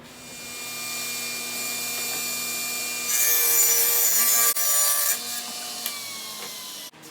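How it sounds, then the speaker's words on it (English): Table saw ripping wood boards to width for a storage cubby, a steady high whine that rises as the blade bites, with rubbing and scraping through the cut before it ends with a thud. "make it easier to use on the table saw, because it's gonna be a cleaner cut, more accurate cut"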